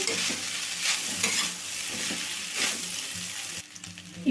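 Semiya upma with egg stirred in a pan, a spoon scraping and turning the dry, crumbly mixture in steady strokes with a soft sizzle underneath, close and alone.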